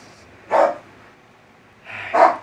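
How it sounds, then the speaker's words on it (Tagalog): A dog gives two distinct barks roughly a second and a half apart, each short and moderately loud against a quiet room. "Ingay ng aso."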